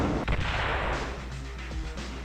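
A cannon fires at a helicopter in Marvel Ultimate Alliance: a loud booming blast up front, followed by further heavy rumbling impacts and a sustained roar of game combat.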